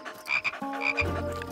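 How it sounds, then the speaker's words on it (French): A cartoon frog croaks in a French children's animation, a few short bright croaks up front followed by a longer low sustained croak, close and clear with a light music bed underneath. "Ah, une grenouille!"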